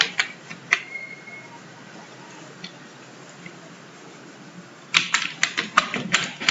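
Keys clatter on a computer keyboard while narration is entered in Tally Prime accounting software, with a few scattered taps early on, a quiet gap, then a fast burst of close typing at the end.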